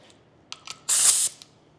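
A clear coat goes on over a patina finish: a few short spray-can taps, then one steady hiss of about half a second, close and loud, followed by a faint last puff.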